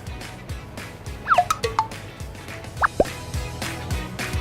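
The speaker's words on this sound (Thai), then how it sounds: "แล้วก็จะใส่น้ำกะทิเข้าไปกับเกลือค่ะ" Coconut milk poured onto salt while making a coconut topping for Thai sticky rice, heard as a scattering of soft drips and small plops over a quiet background, fairly faint and irregular.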